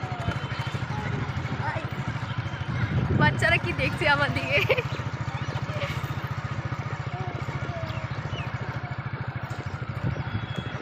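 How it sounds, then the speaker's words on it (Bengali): Motorcycle ride through a village, its engine running steadily at a low, even putter throughout, with a voice talking over it. "আমরা একটু ঘুরছি বাইকে"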